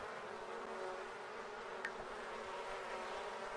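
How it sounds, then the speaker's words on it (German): A steady, droning buzz of bees fills a beehive scene in The Sims 4, constant and fairly loud with a single faint click partway through. "Oh, ich hoffe, die Bienen stechen sie nicht."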